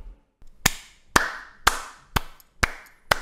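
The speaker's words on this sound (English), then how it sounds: "let's give a round of applause for great acting" Six slow, sharp handclaps ring out one at a time at an even pace, each followed by a short echo, with near silence between them and no talk.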